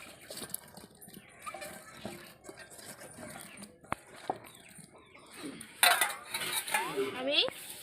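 Metal clatter of a lid and cookware as a pot of cauliflower florets and potato pieces for boiling is covered, with scattered clinks and scrapes, a louder burst of rattling near the end, and faint voice in the background.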